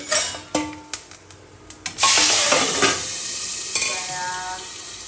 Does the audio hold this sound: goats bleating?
no